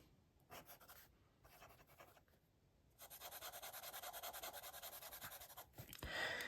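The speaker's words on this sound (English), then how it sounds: "Let's just do this little writing test with the Santini here." A Santini fountain pen nib scratching across Crena paper in short strokes, quiet and close, with pauses between marks before a longer continuous run of rhythmic writing.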